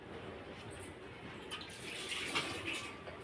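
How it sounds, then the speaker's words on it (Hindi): Tap water runs steadily into a home kitchen sink while a few dishes are quickly washed, a soft continuous splashing stream with occasional light clinks, fairly quiet and with no talking. "2-4 बर्तन है, ये कर लेती हूँ जल्दी जल्दी"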